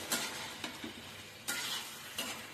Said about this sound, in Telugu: ఇవన్నీ వేసుకుని ఒకసారి కలుపుకోవాలి